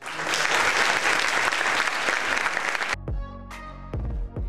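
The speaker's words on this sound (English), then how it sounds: "Actually, can we get a standing ovation?" A large crowd's dense, loud applause for a gymnast at the 1981 European Gymnastics Championships, sustained for about three seconds before cutting abruptly to piano music.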